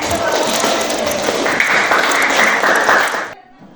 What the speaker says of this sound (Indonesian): Tepuk tangan Haraj ya.